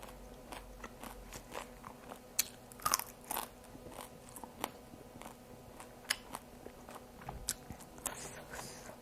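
Close, crisp crunching of someone chewing papaya salad, with irregular bites and sharp crackly snaps over a quiet background and no talk.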